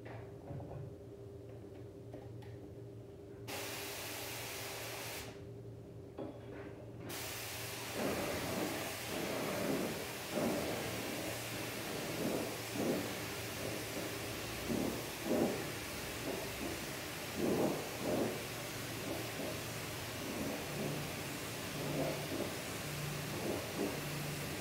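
Spray gun laying clear coat onto car body panels of a Toyota Celica GT4 in a workshop, a steady hissing spray with a low background hum and repeated short pulses as the gun passes, no talking.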